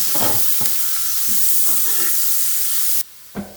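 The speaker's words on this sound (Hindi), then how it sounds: "लहसुन फ्राई होना शुरू हो गया है।" Garlic frying in butter in a pan for roasted garlic potatoes, a steady close sizzle with bursts of stirring scrapes, then cutting to near quiet before one last short stir.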